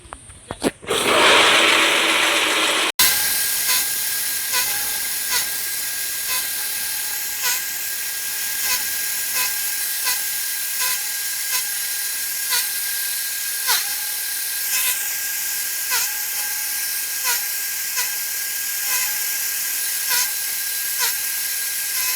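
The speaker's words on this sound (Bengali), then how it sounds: "এখন আমরা এই যে খেরগুলোকে আমাদের এই চপার মেশিন দিয়ে চপিং করে নিব" A chopper machine cuts straw fodder for cows with a loud, high mechanical whine and rapid regular pulses, running steadily after a brief rough start.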